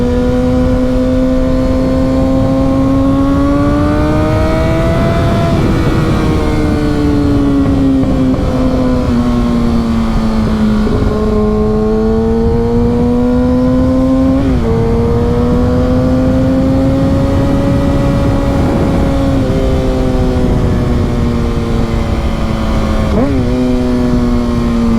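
Super sport motorcycle engine held at high RPM, revved in long, steady climbs and dips with sharp blips between them, loud and close throughout.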